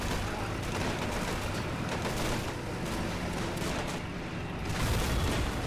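A German Pak-40 anti-tank gun fires in a World War II video game battle, set within a dense, continuous roar of booms and gunfire that stays loud and unbroken throughout.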